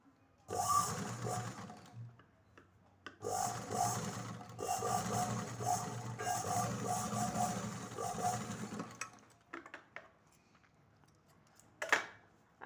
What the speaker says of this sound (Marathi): आपल्याला टिप मारून घ्यायचे आहे तुम्हाला मी दाखवते टिप मारते मी